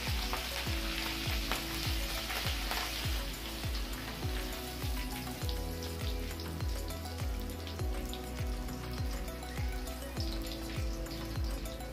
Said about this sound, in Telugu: నెక్స్ట్ మిర్చి సగం కట్ చేసుకొని ఇట్లా ఆయిల్లో జస్ట్ ఇట్లా వేసుకొని వేడైన తర్వాత